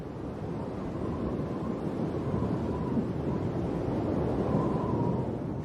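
Steady wind roars through the Drakensberg mountains in blinding mist during a storm, a dense continuous rumble with gusty swells and no voices.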